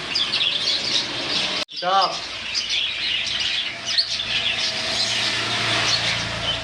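Lovebirds and doves in a bird shop, chirping and tweeting continuously in a dense busy chorus, with one louder squawk and a voice speaking in the background.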